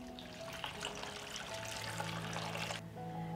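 Water poured from a container into a cooking pot already holding sliced carrots, 2.5 litres going in as a steady trickling, splashing stream close by, alone with no talk, over a faint background hum.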